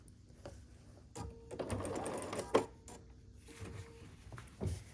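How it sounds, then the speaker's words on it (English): Sewing machine running a quarter-inch seam across a quilt star block, short quiet bursts of needle whirr broken by soft clicks and fabric handling, close but faint with pauses between runs. "we put one on top of the other and sew across with a 1/4 inch seam allowance"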